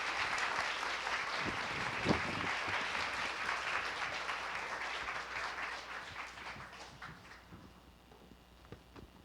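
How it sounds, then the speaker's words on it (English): Sustained applause from a conference audience at a Y Combinator female founders event in Mountain View, a dense wash of many hands clapping that holds steady for several seconds, then gradually thins and fades toward the end. "Give them an applause."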